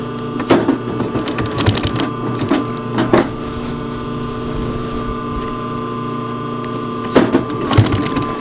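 A domestic sewing machine stitches a small 1.5-inch leather dot onto a wool blanket shirt. It runs in short bursts of two or three stitches, with pauses between them while the fabric is turned, over a steady low hum.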